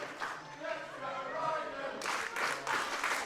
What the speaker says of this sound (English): Crowd trying to get behind Ryden,